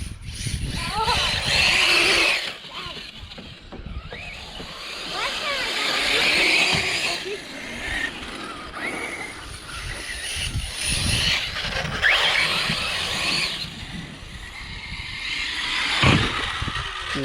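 An Arrma Mojave RC car on 4S power drives and jumps with a steady motor whine and tyre noise that swells and fades, while people talk over it outdoors.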